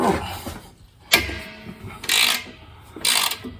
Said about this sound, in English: Let me flip the ratchet.